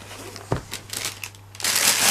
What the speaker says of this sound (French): Le sac plastique qui font du bruit